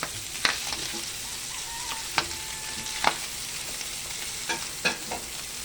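Fried tofu goes into a pan of pork, where a steady sizzle of frying runs throughout, broken by a few sharp clacks and scrapes of stirring.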